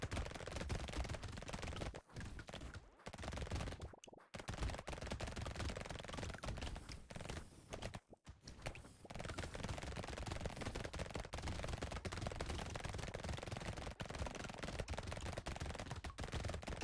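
SMG gunfire in the arcade shooter Brotato, a rapid and nearly continuous rattle of shots that fills the scene, broken only by a few short pauses, with no talk over it.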